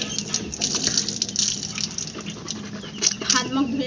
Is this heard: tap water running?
yes